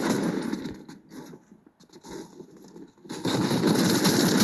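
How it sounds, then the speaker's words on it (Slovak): Gunfire in the video game Fortnite, rapid bursts of shots that drop out briefly mid-way and then return loud and dense, with no talking over them. "tuto sa strieľa rovno vnútri, tak tu počujem už teraz"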